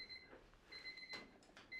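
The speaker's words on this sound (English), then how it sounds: "Oh, it's an alarm clock." An electronic alarm clock beeps in a hotel room in short, high-pitched repeated bursts, separated by brief pauses, with faint rustling background noise.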